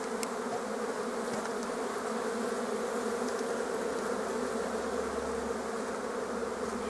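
Honeybees buzz loudly and continuously at a hive's flight board in an apiary in March, forming a dense, steady drone of many wings close by, with no talking.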